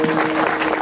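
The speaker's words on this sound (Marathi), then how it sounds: "त्यांच्यासाठी तरी टाळी वाजवा." An audience claps at a Marathi devotional kirtan singing performance, a dense, steady wash of applause filling the short moment without pause.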